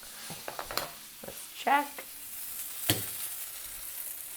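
Halloumi cheese sizzles on a hot grill in a steady, moderately quiet hiss, broken by a few clinks and scrapes of a utensil. A brief spoken remark is heard partway through.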